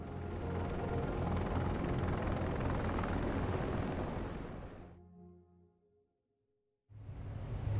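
A US Marine Corps helicopter roars loud and steady with dense rotor and engine noise, then fades out to near silence before the heavy rotor sound cuts back in.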